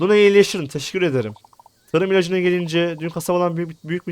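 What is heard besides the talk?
None of the usual background noises is heard.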